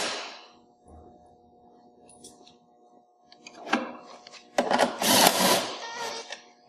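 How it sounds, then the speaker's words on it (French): Bolts are fitted onto Track N Go rubber tracks by hand and tool, giving scattered metallic clicks, clinks and ratcheting bursts that grow busier and louder toward the end over a faint background hum. "Alors, on installe les boulons."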